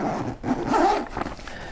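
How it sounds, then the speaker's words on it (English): A zipper runs shut along an Alpaka Elements Tech Brief Pro briefcase bag, a quick rasping pull of under two seconds, close up, with no speech. "I'm gonna zip this up."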